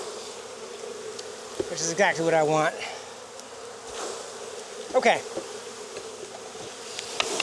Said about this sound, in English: All these foragers that aren't nurse bees are going to fly away